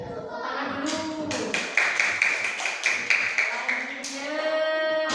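Children in a classroom clap in a quick run of sharp, even claps lasting a few seconds, framed by a teacher's voice before and after.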